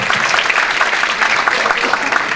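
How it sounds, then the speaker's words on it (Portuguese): An audience claps steadily after a lecture, a dense, even burst of applause that fills the room at close range, with a voice speaking faintly under it. "Vou pedir uma salva de palmas"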